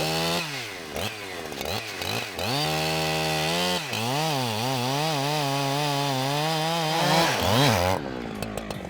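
A chainsaw cuts a felling notch into a tree, close and loud, its engine revving up and dipping repeatedly as it bites into the wood before cutting off at the end.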